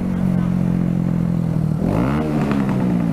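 Kawasaki Z125 motorcycle engine revving on a city street, a steady close idle that rises sharply into a climbing rev partway through, with faint voices in the background.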